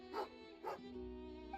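A dog in the video game Genshin Impact gives two short, bright barks about half a second apart, each with a little yelp, over a quiet ambient tone.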